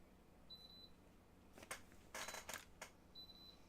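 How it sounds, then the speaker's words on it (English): An electronic device beeps somewhere in a cluttered room, two short faint high tones at the start and end, with a burst of rustling and clattering in between. "I hear it beeping. It's in this room."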